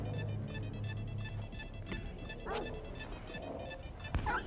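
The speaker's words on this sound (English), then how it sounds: "Fuck off, dogs!" Dogs bark and yelp in a rapid string in the video game Stalker 2, set over a steady low rumble, with a sharp crash near the end.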